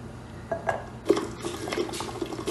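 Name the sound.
tomatoes cooking and splashing in a pot on the stove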